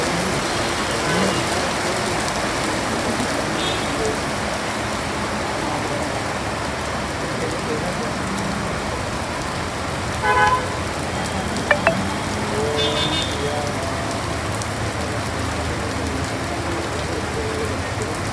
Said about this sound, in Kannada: ಒಮ್ಮೆಲೆ ದುಮ್ಮೆಂದು ಸುರಿದ ಮಳೆ ಭೂಮಿಯನ್ನು ತಣಿಸಿದ್ದಲ್ಲದೆ ಬಿಸಿಲ ದಗೆಯನ್ನು ಕಮ್ಮಿ